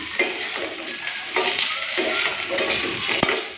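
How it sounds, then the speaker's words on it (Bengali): Eggplant pieces sizzle in hot oil in a pan while being lightly fried and stirred, with scraping strokes of the spatula now and then and a brief clink near the end. "এখন দিয়ে দেবো বেগুন হালকা ভেজে নিই"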